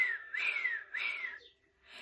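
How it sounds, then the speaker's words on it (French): A Bic pen cap blown across its opening gives two clear, rising-and-falling whistles, each lasting about half a second, followed by a fainter third note; close and fairly quiet, with no talking. "On prenait les bouchons, on sifflait. Genre on mettait le bouchon de... Vous savez, stylo bic, il y a un bouchon."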